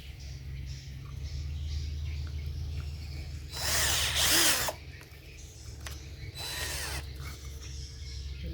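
An electric drill boring through PVC pipe during a DIY fan repair, two loud whining bursts of drilling, each about a second long, rising over a steady low motor hum, with no talking.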